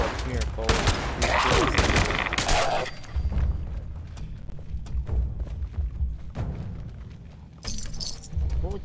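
Shotgun fire and combat in the video game Fallout 76, loud repeated blasts with thumps and clattering debris, dense bursts early then scattered shots against ghouls, with a voice talking at times.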